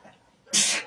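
A single sharp sneeze bursts out loud and close after a quiet half second, a breathy, hissing explosion that fades briefly toward the end.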